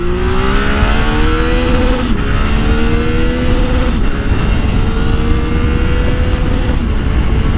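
A Triumph Tiger 800 motorcycle engine runs loud and close throughout while riding, its steady drone climbing and dropping in pitch as it shifts through gears.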